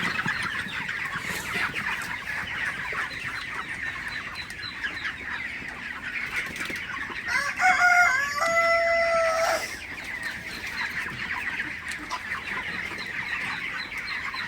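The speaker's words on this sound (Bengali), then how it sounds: "আপনারা দেখতে পাচ্ছেন আমার ব্রয়লার মুরগিগুলো" Broiler chickens on a farm keep up a continuous murmur of clucking, with a loud, drawn-out crow standing out close by for a couple of seconds midway, and no talk.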